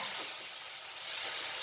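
Goan beef masala frying in a pan as a little meat stock is poured in, giving a loud continuous steamy hiss that swells slightly toward the end, no talking.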